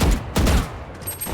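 Gunfire in a tactical shooter game, a couple of close, loud bursts of shots with a ringing tail between them.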